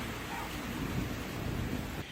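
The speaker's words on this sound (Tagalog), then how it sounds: "Pero maghapon pa rin maulan sa Baguio City." Steady, moderate rainfall hissing outdoors in Baguio City, Philippines, during a typhoon and monsoon, a dense continuous patter with a faint low rumble beneath it.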